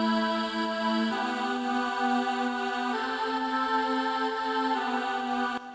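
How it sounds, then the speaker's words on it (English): Synthesized choir 'ahs' in perfect fifths hold sustained chords on the chorus of a song cover, shifting pitch a couple of times, smooth and fairly soft, with no speech. "And on the chorus, I added kind of like choir ahs"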